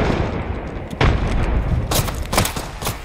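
A frag grenade blast in Apex Legends lands as a heavy boom about a second in, followed by bursts of sharp gunfire crackling over a dense, noisy game mix.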